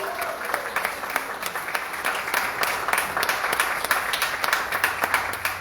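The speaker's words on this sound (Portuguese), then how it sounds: "Dê uma salva de palmas para o rei." A church congregation gives steady, sustained applause, dense and fairly even throughout, with a faint voice or tone entering near the end.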